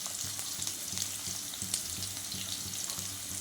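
Onions frying in hot oil in a pan for fish curry, a close, steady sizzle with rhythmic stirring scrapes throughout.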